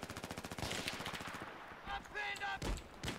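Rapid bursts of automatic gunfire in the video game Battlefield 3 on the Kharg map, a fast rhythmic volley followed by a few louder single shots, mixed with game effects and a voice.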